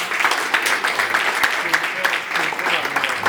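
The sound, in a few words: applause at baby shower ceremony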